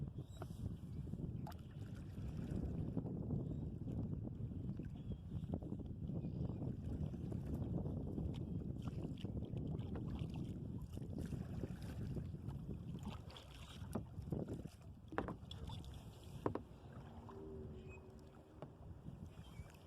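A small boat moves through water with steady sloshing and lapping, wind rumbling against the microphone throughout, and a few knocks near the end.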